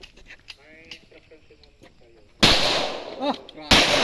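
Two loud, sharp sniper rifle shots from a shooting video game burst in close succession near the end, following a stretch of quieter speech and small clicks.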